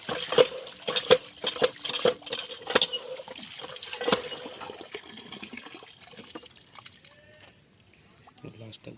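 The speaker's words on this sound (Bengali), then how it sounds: "লঙ্কাটা ধুয়ে নিচ্ছে।" Green chilies washed under water in a home kitchen, with close splashing and pattering bursts for the first few seconds that thin to softer trickles and quiet rustles.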